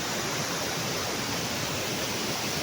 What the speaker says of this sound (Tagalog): Para makita yung anong ganda ng Cayulo Waterfalls